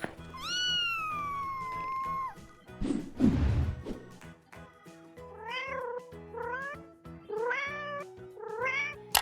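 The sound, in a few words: cat meowing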